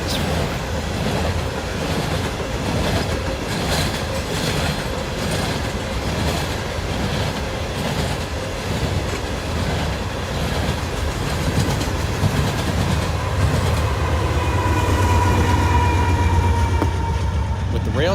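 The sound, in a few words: Norfolk Southern freight train passing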